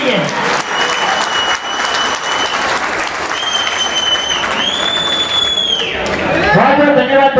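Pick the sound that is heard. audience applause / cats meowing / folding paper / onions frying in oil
audience applause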